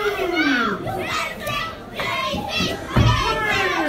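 A wrestling crowd at an intergender championship match cheering and shouting, a lively mass of excited voices with high-pitched yells surging in and out.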